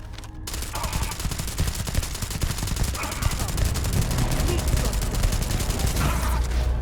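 Sustained rapid gunfire from a player's weapon in Starfield, dense and continuous at close range throughout, with a voice talking over the shooting.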